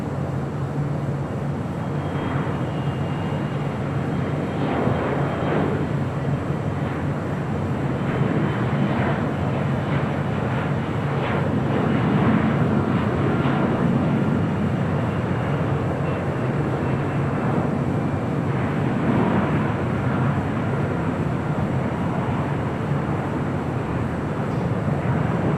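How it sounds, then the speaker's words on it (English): An American Airlines A321neo arriving from Phoenix touches down on runway 25 left at LAX, a sustained distant jet roar swelling and easing under steady wind buffeting. "Landing on 25 left. That was American Airlines flight 2930 coming in from Phoenix"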